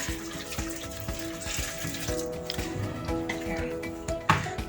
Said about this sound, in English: I'm going to add a 1/4 cup of water,